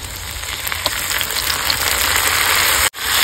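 Onion paste frying in hot oil in a village kitchen for a country-chicken curry, giving a steady, close, broadband sizzle with faint crackles that runs alone throughout and cuts off abruptly near the end.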